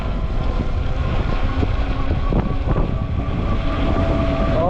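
Strong wind roars steadily and loudly past a rider on an Ecotric 20-inch folding fat tire e-bike, a dense, unbroken rush of buffeting air filling the whole stretch with no talking.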